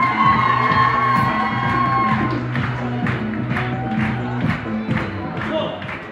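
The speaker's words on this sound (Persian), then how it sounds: "به افتخار مدیریت محترم پاساژ پرواز یک تشویق جانانه" Loud crowd at a shopping mall opening event cheering, whooping and clapping for the mall management, a dense sustained mix of applause and shouts throughout.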